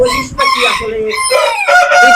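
Loud, close crowing from silkie chickens on a farm fills the clip: several strained, harmonic calls follow one another with barely a gap, overlapping at times, each rising and breaking before the next begins.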